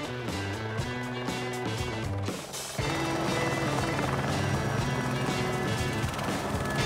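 Helicopter arriving to sling-load more than 13,000 pounds of cement, its steady loud rotor and turbine drone continuous throughout, with a short dip in level before it resumes at full strength.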